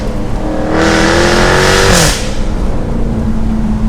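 A Jaguar F-Type R AWD engine revs hard, its pitch climbing in a loud rising howl before cutting off sharply at a gear change, then settling into a lower steady drone.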